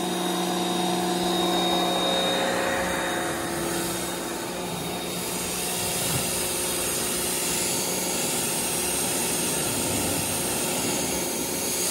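A power washer blasts a Coleman Ram X15, a 15-foot canoe, in a steady, loud broadband roar that hardly changes across the whole stretch, with no voices over it.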